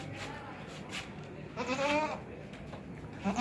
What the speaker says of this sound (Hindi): ये बरबरी नस्ल का बकरा है मेरे पास